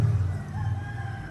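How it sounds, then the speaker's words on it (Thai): A free-range rooster gives a short, fairly faint crow outdoors, a single drawn-out call lasting about a second. "ไก่ธรรมชาติ"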